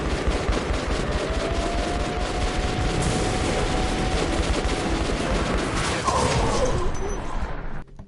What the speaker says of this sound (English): I'm shooting the wheel and nothing happens.